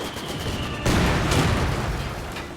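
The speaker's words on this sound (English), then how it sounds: "This is like point-blank mortar." Mortar rounds and rapid gunfire in Company of Heroes 2, a World War II strategy game battle: a dense, loud barrage of overlapping shots and booms, with a heavier close impact about a third of the way in.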